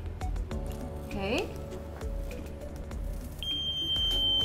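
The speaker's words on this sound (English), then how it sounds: "Is that social distance alarm?" A small social distance alarm robot gives a high, steady electronic beep near the end, sounding clearly over a room where people talk and a rising synthetic warning tone plays.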